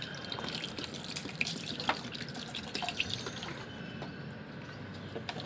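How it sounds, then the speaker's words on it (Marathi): Water trickles and drips into a ground paste of chilli and coconut for solkadhi, a continuous close splashing with small liquid spatters. "अजून त्याच्यामध्ये पाणी टाकायचं"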